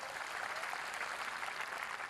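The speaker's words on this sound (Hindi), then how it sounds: "तालियां आप लोगों की थोड़ी सी कमजोर है, जरा एक बार जोरदार बजा दीजिए।" An audience at a Hindi comedy poetry gathering applauds in a steady, dense wash of clapping, moderately faint and continuous with no distinct voices.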